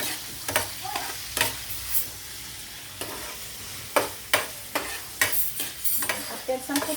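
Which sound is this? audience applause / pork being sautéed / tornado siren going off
pork being sautéed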